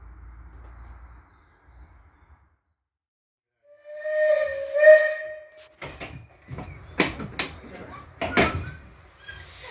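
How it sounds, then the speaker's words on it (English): A steam locomotive's whistle sounds, followed by several sharp bursts of hissing steam over a low mechanical rumble. "So then it was time for a trip on the steam train."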